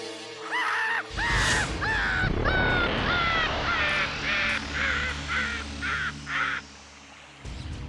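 A crow cawing repeatedly in a steady series of about ten harsh, loud calls over a dense background drone, part of a Hindi fantasy TV serial scene.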